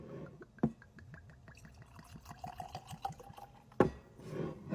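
Whiskey glugs from a bottle into a glass in a quick series of rhythmic liquid pulses, close and quiet, with a couple of sharper clinks or knocks around it.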